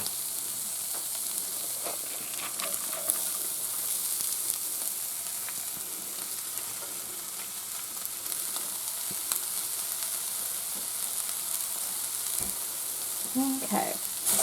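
Rice goes into a pan of frying chicken fried rice, a steady moderate sizzle with occasional scrapes and knocks of stirring, fairly even throughout.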